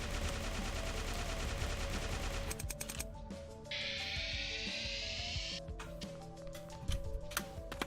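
Rapid gunfire from the Blockchain video game, a dense run of sharp shots that breaks off and resumes in scattered bursts over busy game music and effects.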